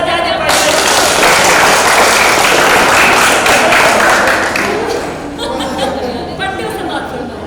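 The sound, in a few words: audience applause at a poetry recital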